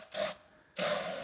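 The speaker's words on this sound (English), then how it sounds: "I used this release all service cleaner on the inside of the C4 tailpipes and it cleaned the soot up basically right away. So I'm gonna spray some in here" Cleaner sprays from a can into a catalytic converter on a Mercedes CL65 AMG V12, a short hiss followed by a pause and then a longer, steady hissing spray nearby.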